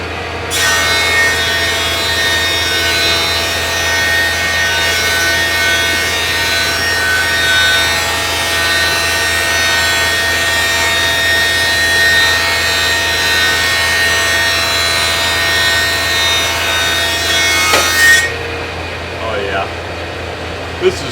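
A power tool smooths a rough-cut cedar trim board with a loud, steady, high whirring grind for about eighteen seconds before it cuts off, leaving a quieter tail.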